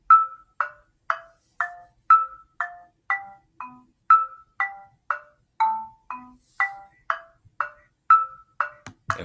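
Looping beat built in Songmaker, a clean, evenly spaced sequence of synthetic marimba-like notes playing a repeating melodic pattern, crisp and close with silence between hits and no talking.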